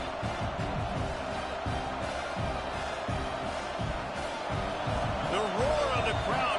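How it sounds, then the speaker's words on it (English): A stadium crowd roars at a UF vs Washington college football game: a dense, steady wall of crowd noise, swelling slightly toward the end, where a few rising whoops or voices break through. "The roar of the crowd trying to fuel this defense to keep them pinned in their own end."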